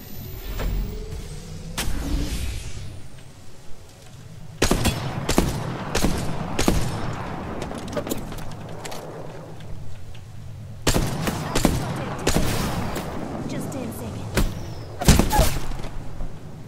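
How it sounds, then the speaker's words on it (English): Video game gunfire strikes the player in sharp bursts of shots and impacts, loud and close, arriving in clusters over a rumbling background. "Listen up, I'm getting shot at."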